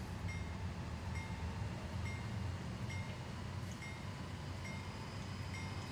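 Freight train locomotive in Train Sim World 4 throttled up to notch 8 while hauling a 1.5-mile-long train across California: a steady, loud low diesel rumble with faint clanking, continuous throughout with no talk.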